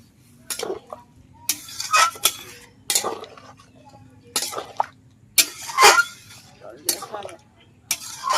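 Boiled dalia and lentils go from a pressure cooker into a pan with clinks and scrapes of metal utensils and cookware, irregular close bursts of clatter separated by short quiet gaps, with speech in places.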